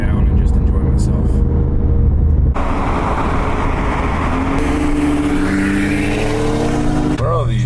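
A manual car on the road gives a loud, continuous engine and road drone with shifts in pitch as it changes gear, while people talk inside the cabin.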